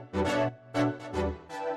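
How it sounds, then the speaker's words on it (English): Synth chords play in short sustained stabs, five bright chords in an uneven rhythm, each with a soft attack and quick fade, no voices. "First thing I have here is this Chord synth."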